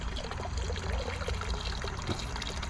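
Water trickles and splashes from a clogged frog-shaped pond pump outlet, a steady soft burbling stream close by, with no voices heard.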